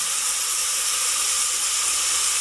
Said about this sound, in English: and let them get fried.